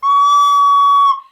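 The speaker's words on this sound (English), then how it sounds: "if your fingers are not completely covering every hole, you're going to get a squeaky sound." Squeaky recorder note caused by air leaking past a finger hole that is not fully covered, a single loud, shrill whistling tone held for about a second before it cuts off.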